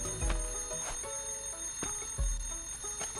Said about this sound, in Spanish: Seguramente tendremos que quitar la alarma